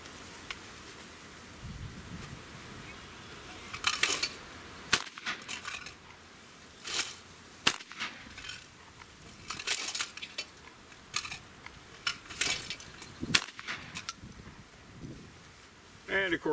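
Sharp, distant-sounding cracks from a 20-gauge shotgun fired at clay targets outdoors, about half a dozen reports spaced irregularly over a low background, with faint talk in places.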